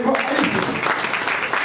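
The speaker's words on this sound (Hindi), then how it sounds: "एक बार जोरदार ताली हमारे हर कार्यक्रम, हमारे हर नेता का, हमारे हर मेहमान का स्वागत करें" Applause from a gathered audience of children and guests at a school welcome event, a dense continuous clapping that is close and fairly loud, with a voice speaking over it at the start.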